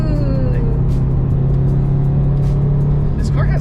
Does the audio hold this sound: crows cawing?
no